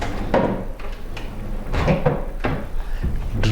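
Kitchen drawers in a two-bedroom show house slide open and shut several times in a row, with dull knocks and short rolling scrapes, close and fairly loud, as someone talks intermittently between them.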